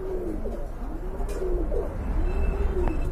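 A pigeon gives a series of low, rolling coos, close and clear, as a female calls to her mate.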